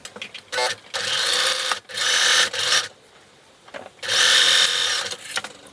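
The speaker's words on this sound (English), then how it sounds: "I'm going to sew with my sewing machine just straight across" A sewing machine top-stitches straight across a fabric headband in three bursts of rapid stitching, separated by brief pauses, loud and close with no talking.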